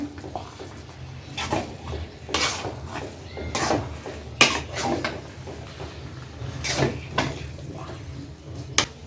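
Stirring clatter as a spice mix is turned through pork and vegetable khichuri in a pot, with intermittent scraping and knocks of a utensil against the pot at an irregular pace, close and moderately loud.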